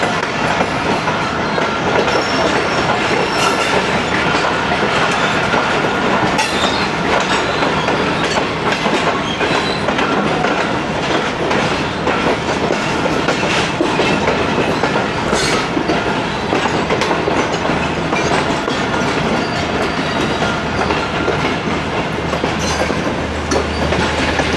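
Karakoram Express passenger train on the original ML-1 line between Lahore and Bahawalpur in Pakistan, a loud continuous roar of wheels on rails with steady clickety-clack and an occasional faint squeal, heard from on board, with no voices.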